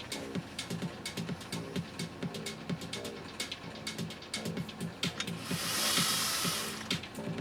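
A 1957 Singer 401A sewing machine runs a straight stitch in quick, even pulses that repeat steadily. Near the end a brief airy whoosh rises over it.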